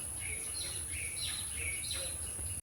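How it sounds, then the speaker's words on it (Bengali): Small birds chirp outdoors after a heavy rain, giving repeated short, bright calls at a moderate distance over a soft, steady background hush. "আর ওদিকে চারিদিকে পাখির কিচিরমিচির শব্দ।"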